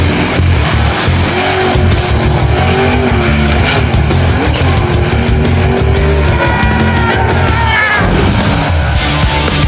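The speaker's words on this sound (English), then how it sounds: "you get a rear-wheel drive car, outfit it with the largest engine you can, lock the trans brake, then let her rip" A 650-horsepower rear-wheel-drive Chevette roars at full throttle off a locked trans brake in a wheel stand, a loud, sustained racing-engine howl with rising pitch sweeps and tire squeal.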